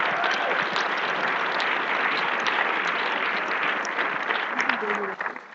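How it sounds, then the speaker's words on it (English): Residents at a community panel discussion in Toronto give a sustained round of applause, dense continuous clapping that tapers toward the end, with a voice faintly heard near the close. "give yourself a round of applause"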